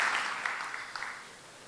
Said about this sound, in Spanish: dale un fuerte aplauso a la palabra de Dios